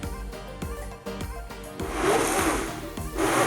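A blender whirs through a batch of fresh salsa, its motor loud and close, pulsing in short bursts before settling into a steady, rougher grind for the last stretch.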